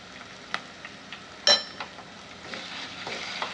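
Onions and ginger-garlic paste frying in a pan give a quiet, steady sizzle, broken by a few soft stirring clinks and one sharper metallic tap.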